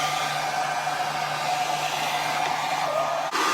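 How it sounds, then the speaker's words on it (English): A hair blow dryer runs steadily and loudly up close, warming a refrigerator's water tank dispenser assembly through an open door, a constant whooshing hum with a faint tonal whine and no speech. "we took a blow dryer and opened the door, and we just heated that up right in here"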